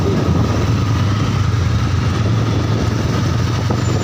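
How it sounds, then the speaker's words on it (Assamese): A motorcycle engine runs steadily and loudly close by, a continuous low rumble with no break, passing along a road on the way to a trade fair, with no talk over it. "বাইকৰ মাতটো বহুত বেছি ভাল লাগিছে"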